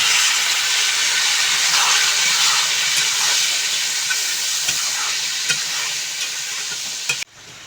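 A loud, steady steaming hiss rises as water hits a hot pan of potatoes for aloo dum, with faint stirring scrapes underneath, easing slightly before cutting off abruptly near the end.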